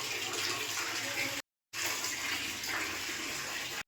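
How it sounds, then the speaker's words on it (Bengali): Water falls steadily in a bathroom with a dense rushing splash, briefly cutting out for a moment before resuming at the same close, even level. "বাথরুমে হচ্ছে দেখতে পাচ্ছ জল পড়ছে, আওয়াজ হচ্ছে।"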